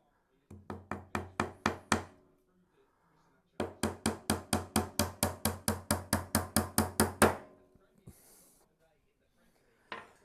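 A hammer drives nails into a wooden National beehive roof in two rapid bursts of sharp, evenly spaced blows, each rising in loudness, followed by a few quieter taps and a final knock, close and without speech.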